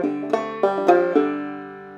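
Clawhammer banjo pull-off exercise: a handful of bright plucked notes in quick succession, each ringing into a long decaying sustain, close and clear with no talking.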